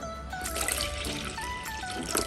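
A glass of water poured into pancake batter with milk and vanilla, a bright splashing trickle that runs continuously for a couple of seconds with small gurgling bursts, close and fairly loud.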